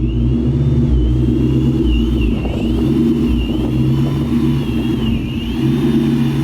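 A 1999–2000 New Edge Ford Mustang with a 2-valve engine, driving and heard from inside, with a loud steady engine rumble and a droning whine that rises and falls slightly as the car moves.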